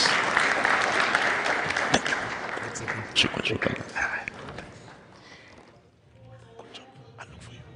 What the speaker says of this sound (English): A round of applause, please, for Dr. Maynard